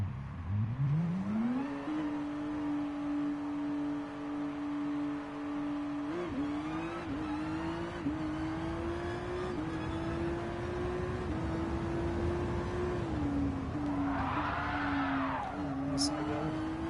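A car's engine accelerates hard in a Gran Turismo Sport quarter-mile drag race, climbing in pitch and then holding a steady high drone through the run, with a brief squeal near the end.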